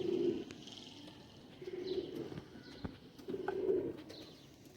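Patti wale cross pigeons coo softly in repeated low, throaty phrases, close by, with faint chirps and light rustling between the calls.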